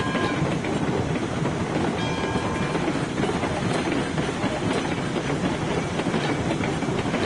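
A locomotive runs on rails in the train game Railroads Online, a steady, loud rolling rumble with rhythmic clickety-clack of wheels over track joints and no talk over it.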